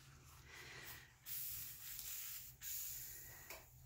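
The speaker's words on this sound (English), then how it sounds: "Hear it sizzle." A broad hissing sizzle rises in bursts as coffee hits a hot surface, swelling loudly then easing, with steady frying crackle underneath and no voices.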